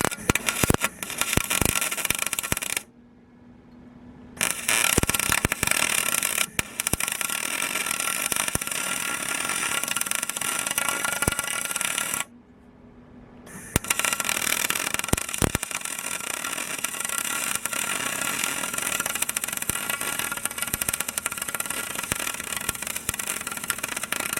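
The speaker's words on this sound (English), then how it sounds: "Now final welding." Final welding of an aluminum roof on a ProMaster van, a steady loud crackling buzz that runs continuously with two short pauses where the arc stops.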